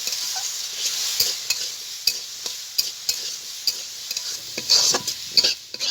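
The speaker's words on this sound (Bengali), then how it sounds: "ভালো করে ভেজে দেব" Potato pieces fry in a pan with a little salt and turmeric, a steady soft sizzle broken by repeated scraping clicks of a spoon stirring them, close and fairly quiet.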